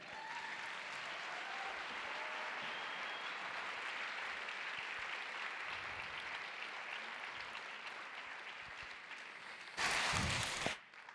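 Audience applause at an event on forest guardians and the canopy, a sustained patter of many hands that swells into a brief louder burst near the end.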